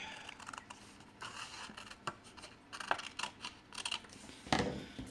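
Scissors snip through paper for a scrapbooking butterfly card, a series of quiet, close crisp cuts at irregular intervals with faint handling noise between them.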